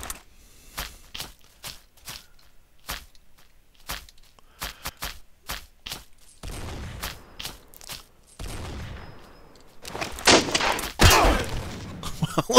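Rocket explosions and gunfire in the Blockade 3D shooter game, a rapid series of sharp thuds and bursts that grow denser and louder toward the end, with no voices.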